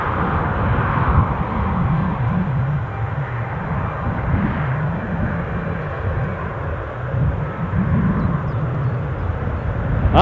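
A fixed-wing aircraft arriving at Newcastle airport on a flight from Lanzarote, its engine roar a steady broadband rumble that holds loud and continuous throughout.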